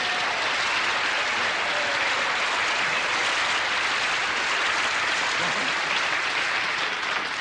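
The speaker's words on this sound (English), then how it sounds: "Let's hear it for Deacon." Steady, full applause from a large television studio audience greeting a football player, loud and continuous throughout with no break.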